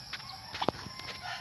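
Turkeys in a provincial garden give a single short gobble-like call amid soft ambient noise, with a faint click just before it and no talk.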